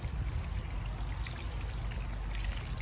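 Water mixed with rooting solution pours onto the soil around a freshly planted peach tree in a South Florida garden, a steady, close splashing gush that runs unbroken throughout.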